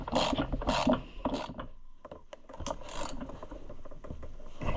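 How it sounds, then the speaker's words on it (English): Ratchet pawls on a Homelite XL-12 chainsaw starter click and rasp as parts are worked by hand, uneven bursts of scraping, ratcheting and mechanical rattling close up, with no talking. "Somehow these little pawl things are what makes it ratchet."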